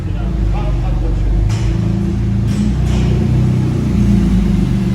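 A Porsche Turbo S sports car rumbles through a Monaco parking garage, its loud, deep engine drone steady and echoing, with voices present over it.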